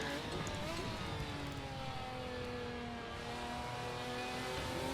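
Ferrari 550 GT1 race car in the GTR2 racing game at Donington, its engine roaring steadily with rising and falling harmonic sweeps through gear changes, loud and continuous with no talk.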